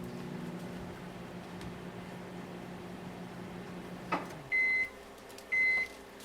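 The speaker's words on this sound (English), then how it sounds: "place it in the microwave, put it in there for 5 seconds" A microwave oven humming steadily with garlic cloves inside, then a click as it stops and two loud beeps shortly after.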